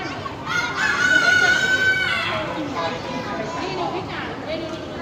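A black chicken rooster crows nearby in a long, drawn-out call, with chickens clucking and people chatting in the background.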